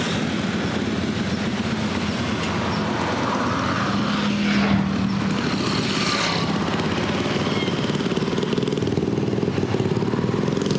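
A motorcycle passes on the Pantura coastal road in Cirebon, heard from another touring bike, its engine drone swelling and fading over steady road and wind noise.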